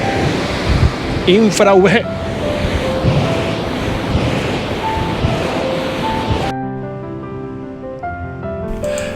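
Ocean surf at a beach on Fuerteventura washes in as a broad, continuous roar with wind, a voice briefly audible early on, before music takes over near the end.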